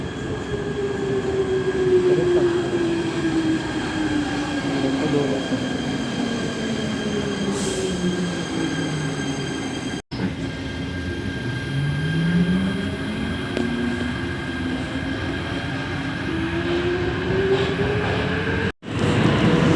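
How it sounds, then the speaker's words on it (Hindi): A Prague metro train running, steady loud rumble of wheels on rails with rising and falling motor whine and occasional squeal, heard continuously from inside the carriage without speech. "चलिए दिखाते हैं आपको आज प्राग की मेट्रो"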